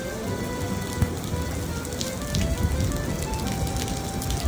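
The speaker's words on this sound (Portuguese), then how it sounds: "Uma chuva torrencial que nos pegou de surpresa." Torrential rain pours down in Paris, a steady dense hiss of drops striking surfaces close by, swelling slightly louder midway with scattered sharper splatters.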